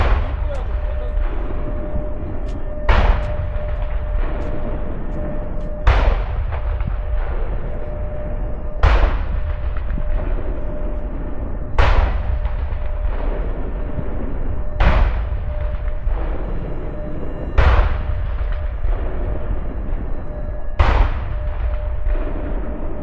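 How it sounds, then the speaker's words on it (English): Salute cannons fire a 21-gun salute at the Seoul National Cemetery memorial service. Booming shots come at even intervals about three seconds apart, each one followed by a rolling echo over a constant outdoor hum. "A total of 21 salute shots are fired over a period of about 2 minutes."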